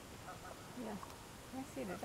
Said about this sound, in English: Yeah, I see the duck.